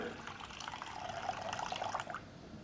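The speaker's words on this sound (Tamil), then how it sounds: "முதல்ல ஊற வச்ச புளியை நம்ம ஒரு பாத்திரத்தில் சேர்த்துக்கலாம்" Soaked tamarind water being poured into a cooking pot while making Kanyakumari-style fish curry, a soft, continuous liquid splashing and trickling that sounds faint and close.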